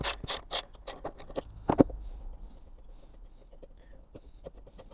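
A wrench works the blade bolt loose on a Hayter Harrier 41 lawn mower, giving a burst of close rasping, ratcheting clicks and metal scrapes early on, then sparse quieter ticks and rubbing.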